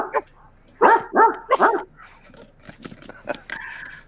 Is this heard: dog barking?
yes